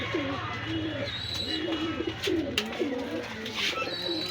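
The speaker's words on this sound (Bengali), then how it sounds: "এই উড়ানোর জন্য পারফেক্ট কবুতার" Pakistani pigeons coo in a shop, with soft rolling calls that repeat close by over a steady low background hum.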